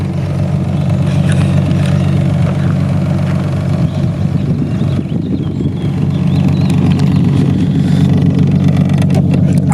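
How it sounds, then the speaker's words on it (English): A 2008 Ford Mustang sits idling close by, its exhaust giving a steady, deep droning rumble with a faint buzzing vibration running through it for about ten seconds, and no voices. "You guys can hear it vibrating from the exhaust."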